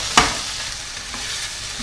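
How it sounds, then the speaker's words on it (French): Onions and bell pepper sauté in a pan with a steady, close sizzle throughout, opened by one sharp utensil scrape and followed by a couple of lighter stirring touches. "Avec le poivron. Donc là, on va les faire sauter 2 petites minutes."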